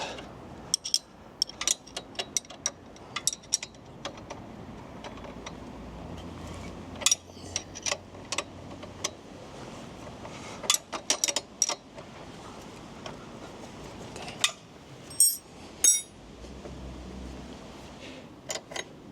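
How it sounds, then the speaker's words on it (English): 14mm and 19mm spanners work the rear axle nuts on a Honda CB125F motorcycle, producing scattered metallic clicks, clinks and ratcheting taps at close range over a low background hum, with no speech. "The 14mm spanner goes on the left and the 19 on the right, and we just loosen up"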